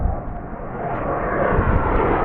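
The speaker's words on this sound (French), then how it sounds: "Ça, c'est un avion d'armée quand" A military aircraft flies low overhead, making a loud, steady roar that fills the whole moment with no voices heard.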